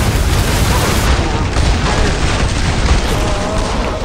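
Grenade explosions and gunfire in Killing Floor 2, a loud, dense barrage of booms and bursts that continues without a break.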